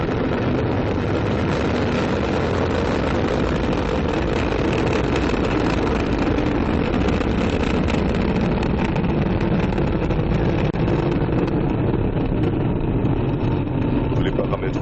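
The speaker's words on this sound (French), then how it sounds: "Allumage Vulcain. Allumage EAP, décollage." An Ariane 5 rocket's Vulcain main engine and solid boosters ignite for liftoff, producing a dense, continuous, loud roar that fills the whole span without letup.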